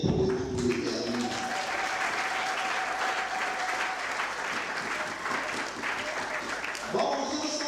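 Sustained audience applause fills a hall at a bilingual anniversary colloquium, dense and steady for several seconds, with a brief spoken voice at the start and end.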